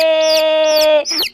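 Several brightly dyed rainbow-coloured chicks, pink ones among them, cheep and cluck in a close, loud, continuous string of high calls, with a final shorter burst after a brief pause.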